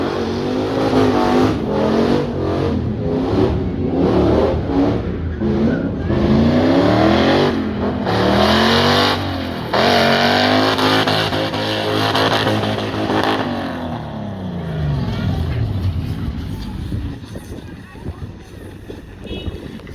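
A turbocharged VQ-engined Nissan Skyline revs hard and accelerates during a hill spin session, the engine note climbing and dropping loudly in repeated pulls with wind buffeting, then fading toward a quieter idle.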